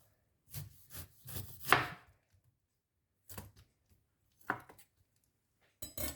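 Knife chopping through the base of a pineapple on a board, several distinct close cutting thuds in an uneven rhythm, then a pause and two more isolated chops.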